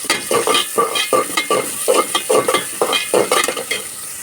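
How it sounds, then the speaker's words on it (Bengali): Chopped onion fries in hot oil, loud and close, with a sizzle that surges in quick regular bursts as a spoon stirs it over and over. "দেখেন আমি এখান থেকে অর্ধেক পেঁয়াজ দিয়ে দিচ্ছি। তেলটা গরম হয়ে গেছে।"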